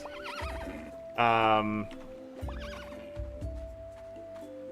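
Horses in the farming game Roots of Pacha give one loud, wavering whinny, with softer neighs and clip-clop hooves scattered through the surrounding sound while someone talks over it.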